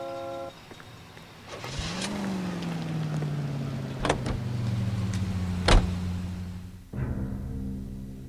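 A car in the 1940s-set video game L.A. Noire starts up and drives, its engine humming steadily with rising and shifting tone, punctuated by a few sharp clicks and knocks, then a brief drop before the engine resumes.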